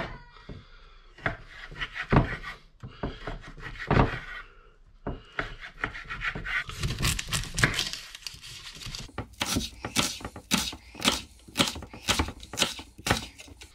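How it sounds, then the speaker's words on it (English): A knife dices a red onion on a cutting board for lobster nachos, with irregular bursts of quick chopping strokes that speed into rapid knocks and scrapes toward the end, heard close. "That's our red onion all chopped up."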